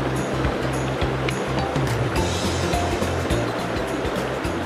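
Strong current of a river at a water-sampling spot, rushing loudly and steadily with a broad, unbroken roar throughout.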